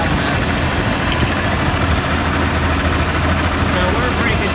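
A 1555 tractor engine runs steadily on a test drive after being reassembled, its muffler loosely fitted, giving a continuous loud low rumble throughout without pause.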